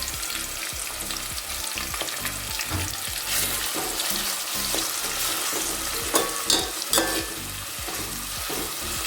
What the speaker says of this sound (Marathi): चांगला कांदा थोडासा साधारण असा लाल करून घ्यायचा फक्त